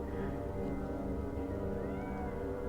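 A cat meows steadily in a video game, a drawn-out, whining call over a continuous game soundtrack with no talking.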